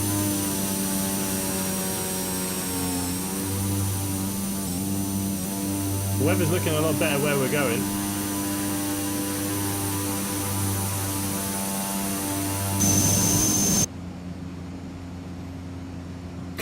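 Loud, steady engine drone and cabin noise inside a Cessna C208B Grand Caravan in the X-Plane 11 simulator, a constant humming roar that drops sharply near the end, with someone talking over it.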